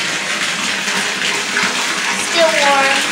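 Tap water pours steadily into a bathtub as it fills for a bath, a loud, close, continuous gushing rush. A brief faint voice rises near the end.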